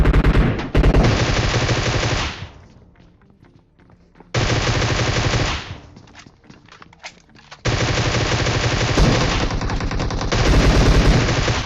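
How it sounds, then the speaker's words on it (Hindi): Rapid automatic gunfire in a first-person shooter game as the player pre-fires around a corner, three long loud bursts of continuous shots separated by brief pauses with scattered single shots. "इसलिए मैं उल्टा जो है सीधा प्री फायर देने लग गया"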